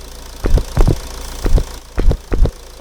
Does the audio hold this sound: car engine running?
yes